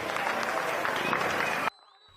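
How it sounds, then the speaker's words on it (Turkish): Residents at windows and balconies applaud and cheer in support of security forces, a dense wash of clapping and crowd noise with voices mixed in, continuing steadily before cutting off abruptly near the end. "alkışlarla ve tezahüratlarla destek veriyor güvenlik güçlerine"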